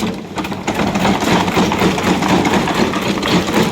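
A hand-wound seed sorter fan spins up, giving a continuous whirring, rattling mechanical drone with slight rhythmic pulsing, close and fairly loud, with no voices.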